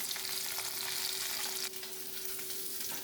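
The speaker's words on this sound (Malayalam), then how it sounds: "മത്തി വറുത്തത് അത് നല്ല രസമാണ്." Sardines frying in coconut oil, a quiet unbroken hissing sizzle with light crackle, dipping slightly midway, over a faint steady hum.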